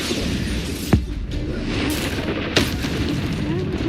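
Bombarda spell explosions in Hogwarts Legacy, two punchy booms about a second and a half apart, each a sharp crack with a short rumbling tail over continuous low game ambience.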